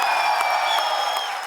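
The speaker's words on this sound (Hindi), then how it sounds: "आप सबकी जोरदार तालियों के बीच" Audience applause and cheering welcoming a singer onto the stage at a comedy show, a brief, moderately loud wash of clapping and crowd noise.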